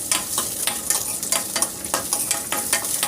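Half a tablespoon of mustard seeds splutter in hot oil for a drumstick curry, a close, busy sizzle broken by sharp repeated pops and crackles at a fairly even pace.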